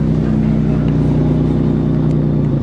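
A Pontiac car drives along with a steady, loud engine drone and a low rumbling hum throughout, heard from inside the cabin without any talking.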